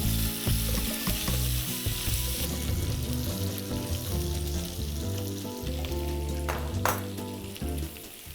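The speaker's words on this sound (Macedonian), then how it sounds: "Додека нашата сланина се пржи" Bacon frying in oil in a pan, a steady close crackling sizzle throughout, with a strong low hum underneath and a brief sharper spit near the end.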